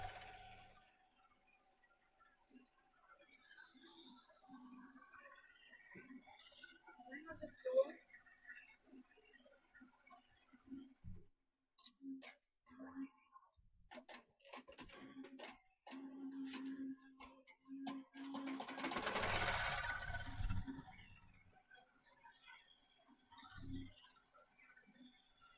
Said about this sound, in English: Sews and trims and starts and sews and trims and starts and sews.